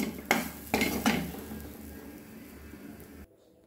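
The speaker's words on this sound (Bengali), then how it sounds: "লো ফ্লেমে আমি ভাজছি।" Grated coconut fries on a low flame while a utensil scrapes and clinks against the pan a few times, followed by a soft steady sizzle that cuts off abruptly.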